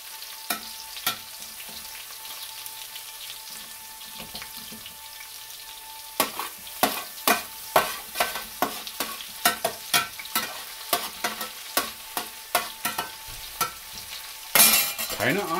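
Frozen shrimp sizzle in a frying pan, steady crackling joined by a rapid run of rhythmic stirring scrapes and a louder burst of spitting near the end.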